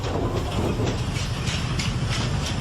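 A metro train runs along the track with a loud, steady rumble and faint rhythmic clatter of wheels, heard from close by and without any voices.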